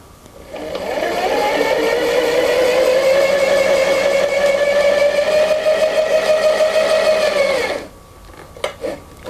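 A Studio DL 1000 linking machine stitches a sweater pocket with a steady, loud motor whir that holds a sustained hum for several seconds, then stops abruptly, followed by a few small clicks.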